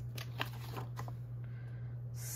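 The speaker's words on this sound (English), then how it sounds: "Scissors." Scissors cut paper while a planner page is being decorated, making a few short crisp snips and crunches over a constant low hum. The cuts are close and quiet.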